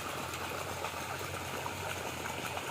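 Water from a solar water pump pours into a tilapia fishpond, a steady, even rush of splashing flow that holds at one level throughout, with no voices.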